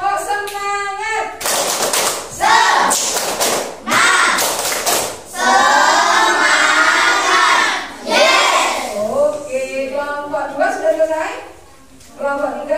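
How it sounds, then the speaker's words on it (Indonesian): A classroom of students doing rhythmic chanted group clapping routines, bursts of synchronized claps alternating with loud shouted calls from children and a teacher's voice, busy and close. "Oke, tepuk semangat."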